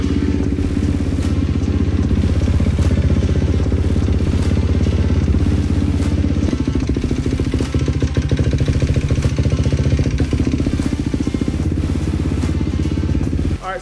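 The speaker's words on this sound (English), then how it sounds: "let's fire up this YFZ." A Yamaha YFZ450 ATV engine running loudly up close, a steady throbbing idle that shifts to a faster, rougher pulsing rumble partway through, then cuts off at the end.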